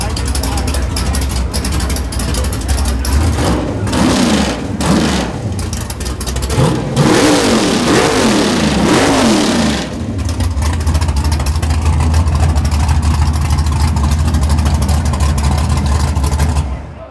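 Drag racing car engine revving hard at a cackle fest during a drag night at a drive-in in Bridgeview, Illinois, loud and rising in surges between lower idling stretches, with crowd chatter and voices underneath.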